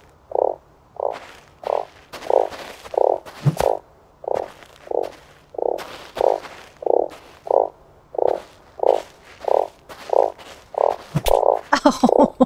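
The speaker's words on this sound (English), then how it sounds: "Oh, I hear the frog." A frog in the desert survival game Starsand croaks in a steady, evenly spaced series of about twenty loud, close, throaty calls, with faint clicks and footsteps between them.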